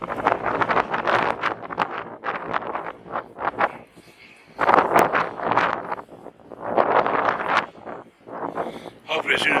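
Strong, cold wind gusts across a beach at Half Moon Bay, buffeting the microphone in loud, uneven bursts with brief lulls between them, while a voice talks intermittently over the roar.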